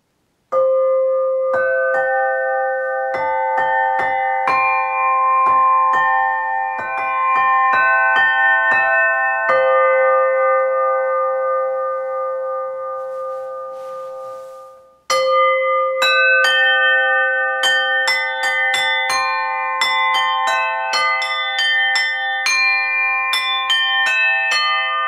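A 2.5-octave aluminum Aluphone Glennie Concert is struck with mallets, its bell-like tones ringing on in layered, overlapping notes, fading to near silence before a fresh burst of struck notes resumes.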